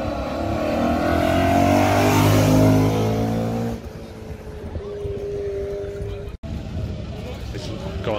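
Supercar at a hill climb launch, its engine revving loudly with rising harmonic tones before easing to a lower steady drone, with people talking nearby.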